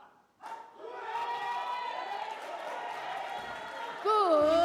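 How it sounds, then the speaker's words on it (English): Crowd at a para powerlifting World Cup event in Pattaya cheering to urge on a lifter, a sustained steady roar of voices with a louder shout near the end. "Crowd encouragement often welcomed for the athletes"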